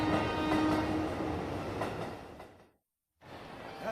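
A train running on rails, a steady rumbling roll with faint clatter and a brief squeal, cutting to near silence for a moment before the rumble resumes.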